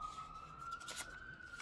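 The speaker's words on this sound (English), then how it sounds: "Y'all hear them sirens?" A faint, distant siren wail rises slowly in pitch beneath a low background hum, quiet and far off.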